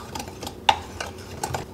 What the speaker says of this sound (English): I'm just gonna use it to whisk all that together.